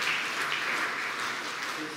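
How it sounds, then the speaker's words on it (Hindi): Congregation clapping at a Sunday evening Hindi church service, a steady dense wash of applause filling the whole two seconds at moderate level with no voices over it. "क्यों ना परमेश्वर के लिए जोरदार ताली बजाते हैं।"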